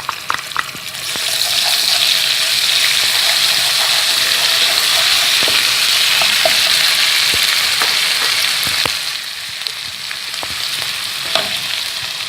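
Onion and cumin fry in a pan for baingan bharta, giving a loud, steady sizzle with light scraping and stirring clicks throughout and no talking.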